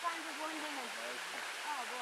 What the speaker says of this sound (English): No, sticky waterfall now.